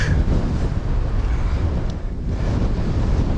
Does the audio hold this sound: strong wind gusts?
yes